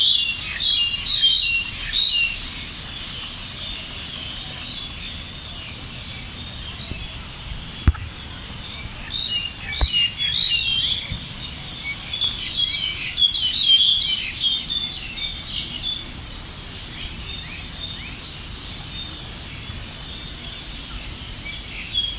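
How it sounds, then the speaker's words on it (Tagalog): Birds chirp and tweet in Kowloon Park, Hong Kong, with repeated bright calls coming and going over steady outdoor ambience and a couple of faint knocks. "Ang sarap pakinggan ng mga huni ng mga ibon."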